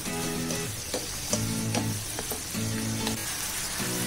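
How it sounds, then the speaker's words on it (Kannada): Prawns roast in butter and garlic over a high flame, a loud continuous sizzle with periodic stirring scrapes and clatter close to the pan. "ಹೈ ಫ್ಲೇಮಲ್ಲೇ ಬೇಯಿಸ್ಕೋಬೇಕು. ಬೇಗ ಬೆಂದೋಗುತ್ತೆ ಪ್ರಾನ್ಸ್."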